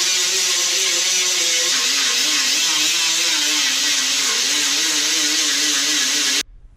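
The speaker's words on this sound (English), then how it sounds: "grind all these welds down a little bit" An angle grinder works down the welds on a 1993 Ford Bronco frame repair, a loud, steady high-pitched whine with a wavering motor tone that runs unbroken for over six seconds before cutting off abruptly.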